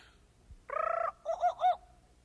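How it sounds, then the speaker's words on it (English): A short birdlike call: a buzzy trill followed by three quick warbling hoots, clear and close against near silence. "when you hear the jungle bird call, like this."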